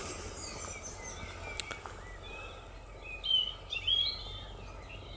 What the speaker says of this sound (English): birds are still singing.